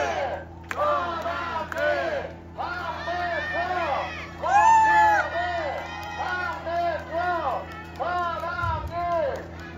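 A rally crowd outside Seoul Detention Center rhythmically chants a speaker's name in unison, loud, repeated bursts with cheering and whoops, voices dominating over a steady low hum.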